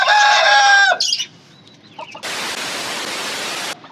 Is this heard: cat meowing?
no